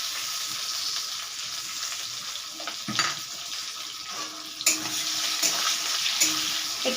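Onion, green chili and nigella seeds sizzle in oil in a pan, a steady frying hiss with a few stirring scrapes and clatters, close and moderately loud with no talking.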